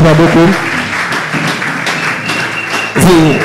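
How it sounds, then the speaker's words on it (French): Church congregation applauding at a Sunday service, a steady wash of clapping across the whole moment with a voice speaking over it at the start and again at the end. "Écoutez, acclamons pour la gloire de Dieu"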